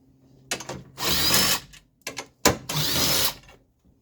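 A power tool drives out the 13mm bolts holding a Land Rover Discovery Sport battery in place, in short whirring bursts, two longer runs and several quick blips, close and loud with silence between.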